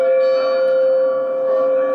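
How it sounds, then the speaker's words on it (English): A church bell rings with an added reverberation effect, its steady tone sustaining and ringing out smoothly for about two seconds. "the church bell is triggering the reverberation effect"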